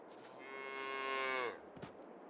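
A single drawn-out cow moo from livestock in Farming Simulator 22, rising and holding for about a second before cutting off, clear and fairly close against a quiet background.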